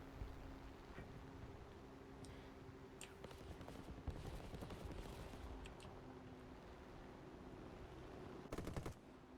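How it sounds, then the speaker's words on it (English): In a flight combat video game, a strafing run sets machine-gun fire over a constant low engine drone. The rattling bursts are fairly quiet and grow denser near the end. "I'm just gonna do last strafe before I go back to the airfield."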